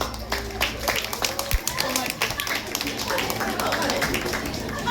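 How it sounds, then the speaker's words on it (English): An audience at a talk on sensitive skin applauds a speaker, with scattered, uneven claps mixed with voices and murmuring. "Please give a big round of applause to Dr."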